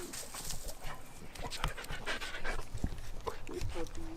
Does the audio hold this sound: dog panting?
yes